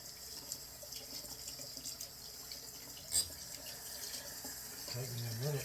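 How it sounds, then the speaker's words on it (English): Tap water runs steadily while lather is rinsed from a shaving brush at a sink, a close, continuous wash with small splashes and one brief louder splash midway. "let me wash out the brush right quick. Lots of lather left in that brush."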